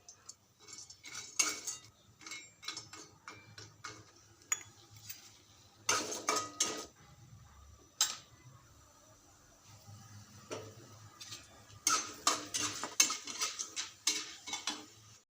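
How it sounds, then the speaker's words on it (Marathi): Whole spices being dry-roasted with a little oil in a pan on low heat for a Maharashtrian onion-garlic masala, giving repeated close scraping and stirring clatters of a spoon against the pan, with bursts of busier stirring. "सगळे खडे मसाले भाजताना आपल्याला थोडंसं तेल टाकून भाजायचे आहेत आणि लो गॅसवरती भाजायचे आहेत"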